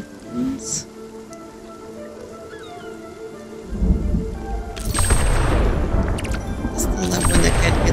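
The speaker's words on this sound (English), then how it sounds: "we can go and get some thunderbolts, lightning in a bottle, a storm." A thunderstorm in the video game Spiritfarer begins with low rumbles and light patter, then heavy rain and crashing thunder surge in and stay loud, with talk mixed underneath.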